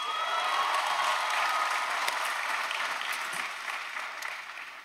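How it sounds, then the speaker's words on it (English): Graduates of the University of Texas at Austin Class of 2022 applaud at their commencement ceremony, a dense, steady wash of clapping from a large crowd that fades slightly toward the end. "graduates, give yourselves a round of applause"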